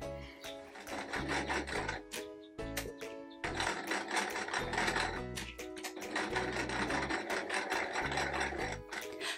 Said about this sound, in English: I'm going to stitch around them